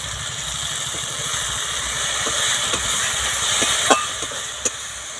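Chicken kosha gravy simmering in a pan gives off a steady, close hiss of sizzle and steam, broken by a few soft pops toward the end.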